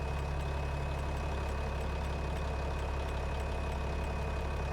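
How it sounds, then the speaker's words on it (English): Tractor engine labouring under a heavy load in a farming game, a constant low droning rumble with steady pulsing throb that holds unchanged throughout. "Hopefully this tractor can handle the load. It's already struggling, I see."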